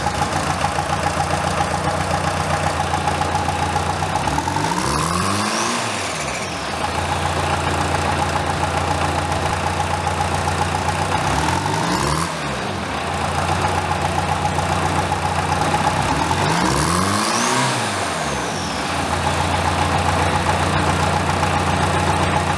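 A small homemade loader's engine idles steadily, then revs sharply three times with rising and falling pitch, each burst followed by a return to idle.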